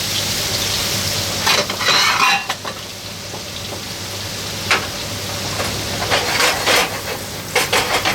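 Pineapple sizzles in melted butter in a pan over high gas heat. There is a steady frying hiss with occasional stirring scrapes and bursts of crackle.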